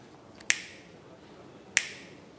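Two sharp, crisp finger snaps from a boss standing behind someone at work, about a second apart, close and loud against quiet room tone with no talking.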